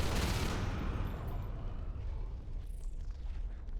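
Gunfire from shooting aliens in the video game Natural Selection: a loud, close burst at the start that decays into a rumbling wash with a faint high sweep near the end.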